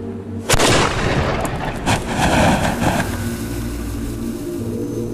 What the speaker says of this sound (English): They will then ignite the second stage charge via the touch hole at the back of the trump, shooting out small stones and shards of metal at the target.